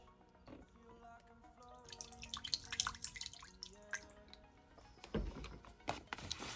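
Water drips from a $20 bill soaked in water, giving faint, irregular close drips and small splashes over quiet background hum.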